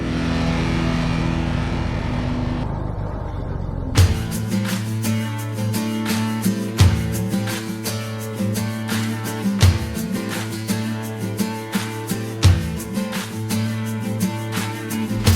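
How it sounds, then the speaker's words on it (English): A Unimog truck is pushed hard on an off-road trail, its engine revving and surging in repeated loud bursts with sharp gear-change breaks between them, after a brief quieter stretch at the start. "We're out here with the Unimog, running it, taking it to its paces"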